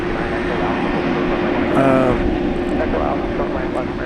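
UPS cargo airplane at DFW Airport bound for Louisville, a loud steady jet engine roar that fills the clip, with someone talking over it.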